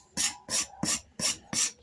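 A rasp scrapes across a wooden Winchester rifle stock in five even, rhythmic strokes, each a bright, gritty rasping sound, close up with short pauses between.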